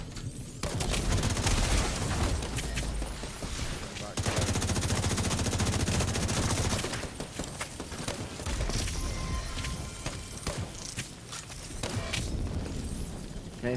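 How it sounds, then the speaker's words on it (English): A Liberty gun fires rapidly in a video game, long dense strings of shots in fast, even bursts with short breaks between them, loud and close, with voices under the firing. "that's some fucking quick shooting with the Liberty"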